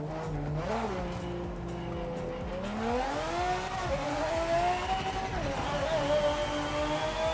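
Race car in the Project Motor Racing sim game loses grip in a snap oversteer moment, its engine note steady and loud with rising and falling pitch and a brief tire squeal, no talking.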